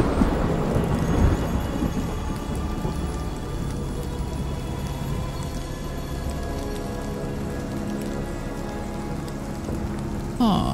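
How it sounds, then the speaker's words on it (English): Steady rain and rolling thunder from a storm with repeated lightning strikes in the video game Shadow of the Tomb Raider, a dense continuous wash with a louder crack near the start and another near the end. "So that's the thing, the lightning keeps striking."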